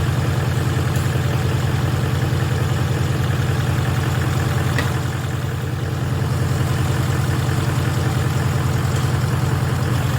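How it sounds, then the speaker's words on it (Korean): A Volvo engine idles steadily after an overhaul, having been restarted once a fully discharged battery was charged; a continuous low rumble runs throughout with no voices. "시동이 걸렸는데요."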